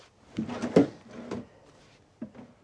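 A drawer on newly installed drawer slides in a DIY RV kitchen renovation is pushed shut, a few close wooden knocks and slide clatters followed by a softer second bump.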